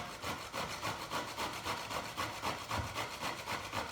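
Half a courgette rubbed against a grater, giving a steady rhythmic rasping stroke repeated about every half second, close and continuous with no talking.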